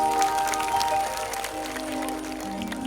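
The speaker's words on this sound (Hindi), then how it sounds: "बच्चों के लिए जोरदार तालियां बजाइए।" A crowd claps loudly and steadily for children at a devotional bhajan gathering, with the applause sustained throughout and sustained musical tones ringing beneath it.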